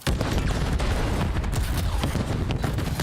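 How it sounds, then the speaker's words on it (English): Explosions and gunfire fill a competitive Call of Duty-style esports match, a loud, continuous barrage of booms and rapid shots with no pause. "More explosions."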